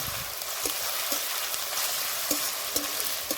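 Ginger and garlic paste frying in hot oil over onions browned deep red for a village-style chicken curry, a continuous crackling sizzle with soft stirring knocks at intervals, close and moderately loud.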